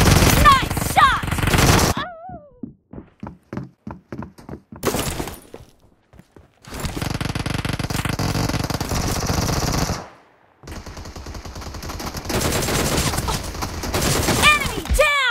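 Automatic gunfire in the mobile shooter game PUBG Mobile: loud rapid bursts and sustained sprays of shots, broken by short pauses, with brief voices at the start and end.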